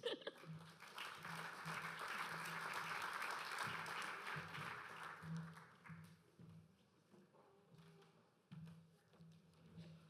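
Conference audience applauding as a speaker is welcomed to the stage, dense clapping that swells for several seconds then thins out to scattered claps, with a voice speaking briefly underneath.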